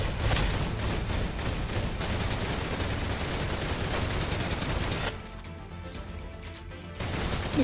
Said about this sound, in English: Just shoot him right in the face.